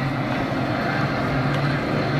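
Battle of Britain Memorial Flight aircraft, including a Spitfire, pass by with a loud, sustained propeller-engine drone that fills the whole stretch, with faint voices of a crowd beneath it.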